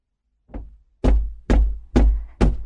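Knocks on a wooden house door in a storybook setting: one soft tap, then four loud, evenly spaced thumps, close and alone with no voices.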